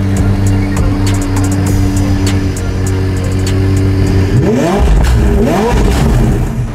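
A McLaren sports car engine idles loudly and close by with a deep, steady rumble, then revs sharply twice in quick succession toward the end.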